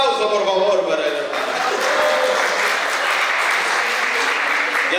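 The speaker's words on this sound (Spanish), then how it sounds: "Un aplauso, por favor, para él." A small audience gives sustained applause at a church gathering, with steady clapping filling the room and some voices mixed in.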